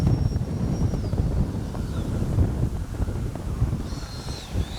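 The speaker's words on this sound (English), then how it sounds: "Boy, it's windy. Windy, windy, windy." Strong wind buffets the microphone in continuous low rumbling gusts at an RC jet flying field, with a faint whine of an 80mm electric ducted-fan JAS-39 Gripen model in the background.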